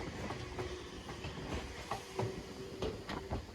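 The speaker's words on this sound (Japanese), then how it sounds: "江ノ島方面の電車も来ました。" Retro Enoden electric train on the seaside line toward Enoshima passes close by, wheels clicking rhythmically over rail joints with a steady rumble and faint squeal, no talk.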